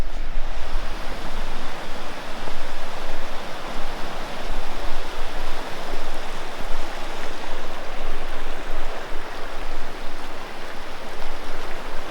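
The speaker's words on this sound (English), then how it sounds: "The river is definitely up. It's not as high as the McAllister," The Caledonia River runs high beside a campsite in the Victorian High Country, a loud, steady rush of flowing water that fills the whole stretch without pause or voices.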